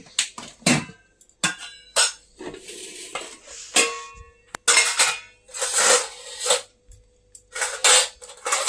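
Repeated scraping and clinking of a utensil serving rice from a pot onto plates, in uneven bursts with short pauses between scoops, close up with no talk.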